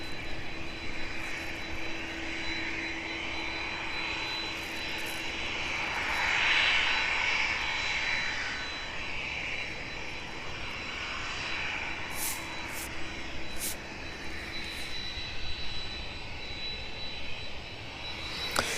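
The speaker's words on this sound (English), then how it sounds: "just waiting for the Ryanair to clear the runway there" A 25-year-old Ryanair passenger jet clears the airport runway on a morning departure bound for Hamburg. A loud, steady jet engine roar and rumble carries throughout, swelling slightly in the middle, with a few faint clicks near the end.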